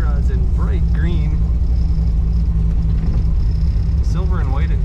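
A 1930 Ford Model A pickup street rod's engine idles at about 800 rpm with a steady low rumble throughout at close range while someone talks over it.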